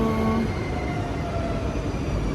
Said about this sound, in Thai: ดูรถไฟความเร็วสูงนะคะ